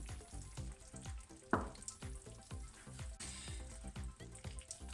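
Tchoutchouka in a pan, just seasoned with curry and turmeric, sizzles quietly while a spoon stirs it in a steady rhythm, producing soft scraping strokes and one louder splash, close and faint, with no talking.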